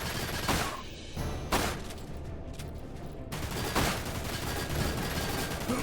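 Dense gunfire from the video game Dirge of Cerberus: Final Fantasy VII, rapid bursts of shots rattling loudly across the whole stretch with a brief lull in the middle, no voices.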